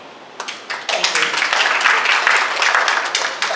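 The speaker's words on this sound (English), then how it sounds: "The audience can please hold their applause until the end of the forum." An audience at a debate forum breaks into applause, a dense burst of clapping that swells quickly and holds steady for a few seconds, loud and close, with no voices over it.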